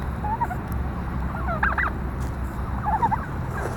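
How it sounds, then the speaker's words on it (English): A young turkey tom, about 20 weeks old, gobbles in rapid rattling bursts, two or three calls spaced a second or so apart over a low rumbling background. "And turkeys come up. There's one of our toms."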